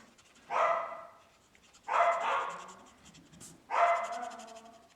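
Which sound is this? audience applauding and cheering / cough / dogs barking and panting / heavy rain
dogs barking and panting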